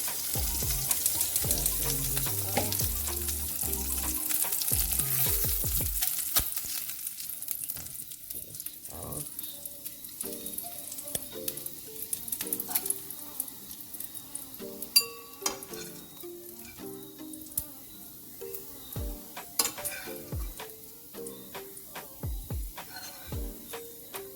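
Bacon fries to crispness in a pan with a soft, steady sizzle. Scattered clicks and light clatter sit over it, and a voice talks at intervals.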